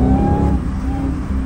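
Chrysler car with a cut exhaust under hard acceleration, its engine roaring loud and close as a steady, rising drone with no talk.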